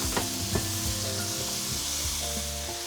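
Tomato and crab sizzle in a pan with softened garlic, a steady loud frying crackle with occasional scrapes and stirring knocks throughout.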